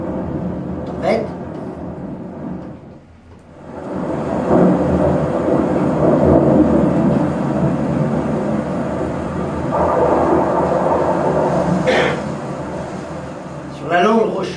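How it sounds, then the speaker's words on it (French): Stage sound effect of a thunderstorm for a theatre performance: steady rain and rumbling roll under recurring thunder cracks, loud and close, with a brief lull near the start before the storm surges back. "Tempête."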